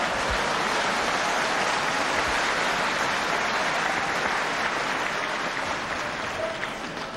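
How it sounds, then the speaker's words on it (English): A packed-to-capacity wrestling crowd at De Montfort Hall in Leicester applauds steadily, a dense, continuous wash of clapping that holds loud for several seconds before easing slightly at the end. "any neat move like that applauded by the packed to capacity crowd here at this wonderful De Montfort Hall in Leicester"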